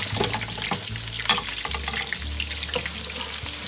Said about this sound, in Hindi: इधर ये हमारा चिकन भी रोस्ट हो रहा है